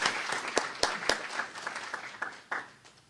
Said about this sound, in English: So can we just take a second and give these folks a round of applause for their support and help.